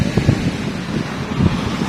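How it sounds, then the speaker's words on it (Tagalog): Strong gusts at the Manila Bay seaside buffet the microphone with low, rumbling bursts. Waves sound in the background, and there is no speech. "Medyo malakas yung hangin."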